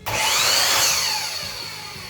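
A WEN M1011T sliding miter saw motor whines up sharply with a brief rev, then the blade keeps spinning down on its own, the high tone slowly fading with no strong braking.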